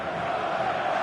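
A stadium crowd in FIFA 14 lets out a sustained collective ooh, a broad, steady swell of many voices filling a short moment.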